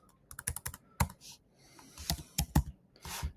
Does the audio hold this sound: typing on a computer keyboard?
yes